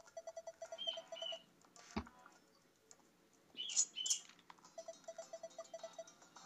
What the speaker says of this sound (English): if anybody's hearing birds in the background